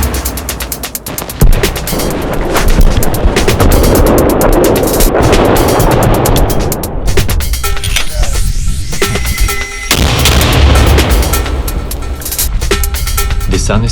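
Mortar and gunfire on a front line in the forests of the Donetsk region: loud, continuous booming and crackling bursts with sharp blasts throughout, close and heavy, with no clear speech.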